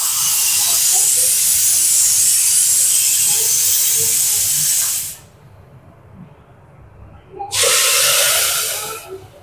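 Mutton gravy poured into a pan of well-sautéed onions for a village-style mutton curry with jackfruit seeds and drumsticks, a loud steady hiss and sizzle that drops off briefly, then surges again.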